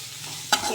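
Two large onions being sautéed and stirred in a pan, a soft sizzle broken by one sharp scrape of the spatula, very short and with no voices.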